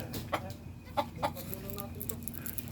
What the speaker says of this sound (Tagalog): marami rin alaga manok dito